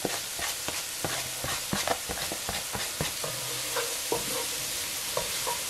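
Green onion is stirred into a simmering pot of tripe stew, with repeated close spoon scrapes over a constant bubbling sizzle.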